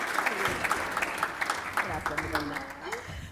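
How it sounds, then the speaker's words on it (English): A luncheon audience applauds the introduction of a former U.S. Treasurer with sustained, moderately distant clapping that runs the whole time beneath a speaker's voice. "Let's give a round of applause to the 31st Treasurer of the United States, Rosario Marín."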